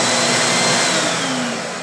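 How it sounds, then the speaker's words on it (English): A shop vacuum in a woodworking shop, triggered through a tool-activated switch, runs with a loud, steady broadband whine and roar throughout, fading slightly toward the end, with no talk over it. "or I can trigger the vacuum here."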